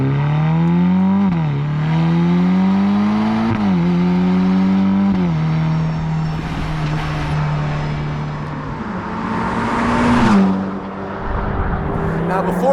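A Ferrari Roma Spider in race mode accelerates hard, its engine note climbing through several quick upshifts, then settling into a sustained drone before one more rising surge, loud and close throughout.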